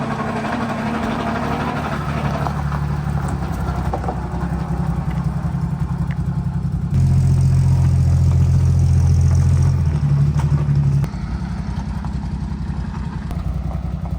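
A 1952 Chevrolet 235 engine running on its first start in years, a loud steady idle with a brief rise in revs midway before settling back to a rough, even drone.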